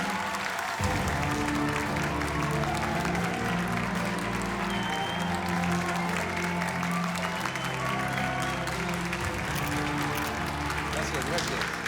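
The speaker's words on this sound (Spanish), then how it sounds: "Recibamos con un fuerte aplauso a un gran hombre, el juez Manuel Figueroa." Loud, dense audience applause welcoming a judge at an evening event, sustained steady clapping with crowd noise and music underneath throughout.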